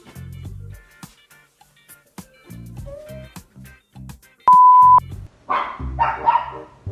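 A dog inside a sofa gives a series of short barks and yips in bursts, with a brief electronic beep midway and some rustling near the end.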